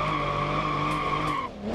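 Tires squeal in a long, loud, steady skid as a car drifts sideways in the BeamNG driving game, then the screech drops and shifts pitch near the end.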